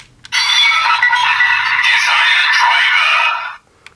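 A bright electronic chime swells up from a Kamen Rider Geats DX Desire Driver toy belt switching on, a sustained buzzy synthetic tone lasting about three seconds before cutting off sharply.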